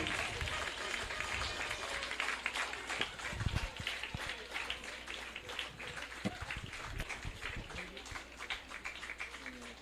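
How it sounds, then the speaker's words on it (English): Applause for two girls' school netball teams at a centenary match, a broad crowd clapping that carries on for several seconds at moderate distance, with some voices and movement mixed in. "Let's give the girls another big round of applause"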